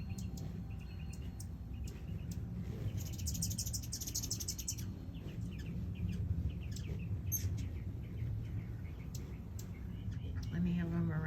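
Several birds chirp and tweet around a feeder, bright repeated calls scattered throughout over a steady outdoor hum, with low speech present in parts.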